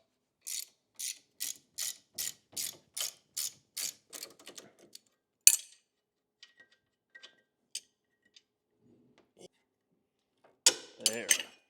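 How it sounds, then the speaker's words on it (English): Ratchet wrench loosening the 21mm lower shock bolt on a Jeep during a portal axle install, a quick run of about a dozen sharp clicks, then a clunk, scattered faint knocks and a short burst of clicking. "step one is removing the lower shock bracket, or lower shock bolt"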